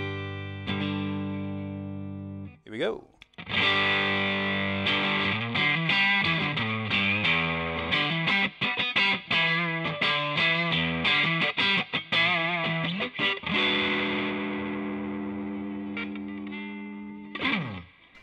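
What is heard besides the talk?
electric guitar through Joyo Ironman Rushing Train amp simulator with reverb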